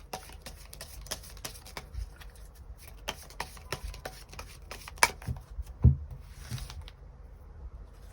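Tarot cards shuffled and drawn by hand, soft rapid riffling and light slapping taps close up, fairly quiet, with a few sharper card snaps near the end.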